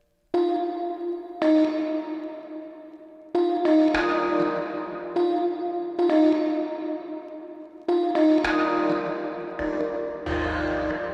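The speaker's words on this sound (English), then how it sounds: "If you just let's max out the reverb." Heavily reverberated chords with reverb pushed to maximum, each note onset followed by a long, dense wash that smears into the next, steady and fairly loud with no voices.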